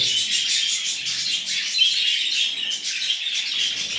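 Cage birds chirp busily after being served homemade food, a dense, steady chorus of high twittering calls that continues without pause, close by, with no talking.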